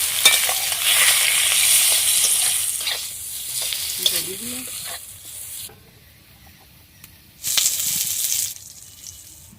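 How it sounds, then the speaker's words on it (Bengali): Eggplant frying in oil in a village kitchen sizzles and crackles loudly at first, then drops to a quiet hiss before a short burst of sizzling returns, with stirring and scraping in the pan. "আগে ভেজে নেব, বেগুনটা আগে ভেজে নিচ্ছি"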